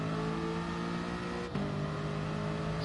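A race car in Gran Turismo Sport, its engine holding a steady high-pitched drone under acceleration, with a short dip and gear change midway before the pitch continues climbing.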